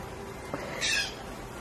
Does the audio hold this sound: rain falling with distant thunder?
no